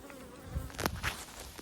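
Honey bees buzz around a beehive in short, close bursts over a steady low hum, with a few louder passes near the middle.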